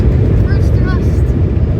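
Embraer ERJ-175 jet engines spool up to takeoff thrust on the runway, a loud, steady low roar filling the cabin without pause, with brief faint whines rising over the rumble.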